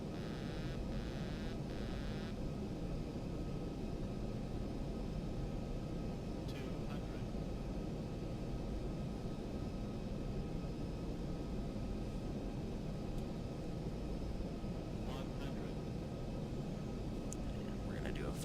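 A steady airliner engine drone in the X-Plane 11 flight simulator, a dense continuous rumble at constant level throughout, with faint cockpit clicks and tones over it.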